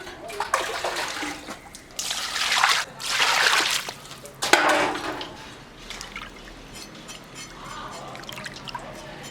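Running water rinses a chopped piece of pork in a home kitchen. The splashing and pouring is close and comes in several bursts with short pauses between them, then settles into quieter trickling and drips.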